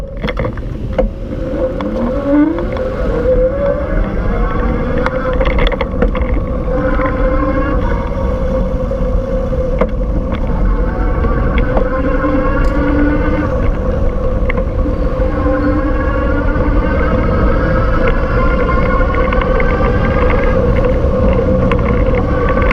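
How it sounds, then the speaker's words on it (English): Electric Bike Company Model S e-bike riding on throttle, a continuous motor whine rising in pitch at the start then holding steady under loud wind rumble for over twenty seconds, no voices. "I'm gonna start with the throttle, and then I'll do some pedal assist for you."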